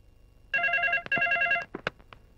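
A telephone rings in an indoor scene, bursts of bright electronic trilling tones followed by a few shorter chirps, fairly close and clear against a quiet room.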